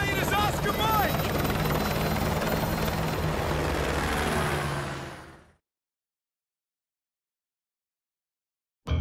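A helicopter in the video game Call of Duty Modern Warfare 2 Campaign Remastered roars loudly with a dense, steady rotor and engine drone for about five seconds, then cuts to silence before a brief loud burst returns at the very end.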